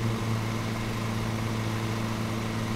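A ride-on lawn mower engine in the video game Lawn Mowing Simulator runs at a steady, low rumbling idle, a continuous drone with no break or change.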